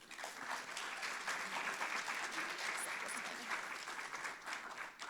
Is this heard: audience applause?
yes